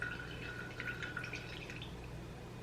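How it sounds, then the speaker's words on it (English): Excess soaking water draining off mung beans, a faint trickle with light drips and small splashes over a low steady background hum, fading toward the end. "I'm gonna see if I can get any of that excess water drained off"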